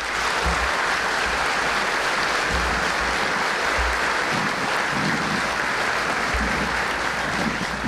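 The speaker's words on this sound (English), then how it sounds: "Please, a round of applause for our families and friends." A crowd claps steadily at an Army basic combat training graduation, a dense, even wash of applause that holds at full strength for the whole stretch without pause.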